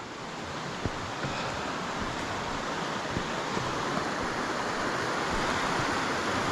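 Haltwhistle Burn rushes in a steady, broad wash of flowing water, constant and fairly close, with a few faint knocks and no voices.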